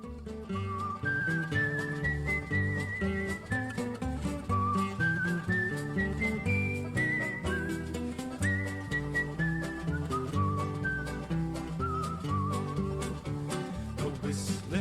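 A melodic whistled tune from a recording, carried steadily over a full guitar and vocal-style accompaniment, loud and continuous with flowing phrases throughout.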